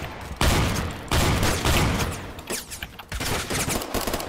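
Gunfire in the Roblox shooter Phantom Forces, a run of loud, rapid bursts of shots with short gaps between them, dense and close.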